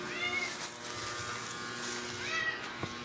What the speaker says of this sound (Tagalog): Ayan, nagkikiyawa na yung pusa ko. Kasi nakita na yung pagkain.